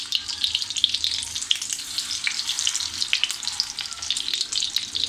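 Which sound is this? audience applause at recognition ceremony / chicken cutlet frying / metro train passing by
chicken cutlet frying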